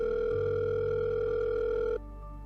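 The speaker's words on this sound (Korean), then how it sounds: "김은정에게 전화할게요." A car voice assistant places a phone call, and a steady electronic ringing tone hums for about two seconds before cutting off abruptly, with no voices.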